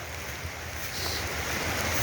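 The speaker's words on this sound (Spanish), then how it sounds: "Bueno, y por aquí está la cascada." A farm waterfall at the far end of a rural property rushes in a steady broadband roar, growing slightly louder midway through, with wind buffeting the microphone.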